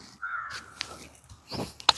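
A crow caws a few times, short harsh calls at a moderate distance, in a quiet outdoor setting with faint background noise.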